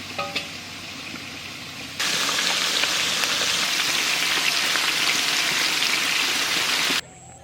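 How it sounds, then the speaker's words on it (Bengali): Climbing perch fish fry crispy in hot mustard oil, a loud, dense, steady sizzle that starts abruptly and holds close and even for several seconds before cutting off. "একদম মসমসে করে ভাজিছি।"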